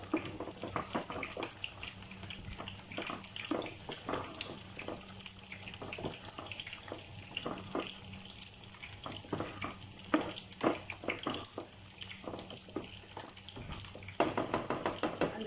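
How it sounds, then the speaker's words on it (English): Egusi stew with diced turkey is stirred in a pot, a soft, steady simmering bubble under repeated scraping and clacking of the spoon, close but quiet. "And then I'm going to stir it all together."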